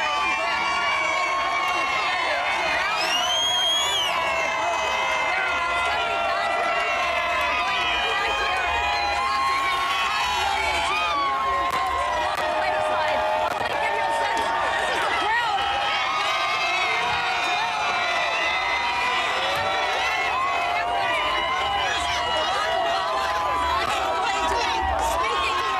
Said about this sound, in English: That crowd around you is so powerful